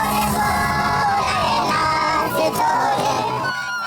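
A crowd of women chanting and singing in anger outside a courtroom, loud massed voices with yells rising and falling, close and continuous.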